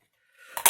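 A small piece of paper is cut off during a papercraft recipe folio project, giving a quick, sharp snip or two after near silence.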